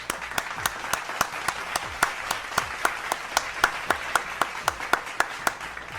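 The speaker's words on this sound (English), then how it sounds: "this calls for a round of applause" Steady rhythmic clapping, a single set of hands beating about three claps per second, sharp and close, with faint background murmur.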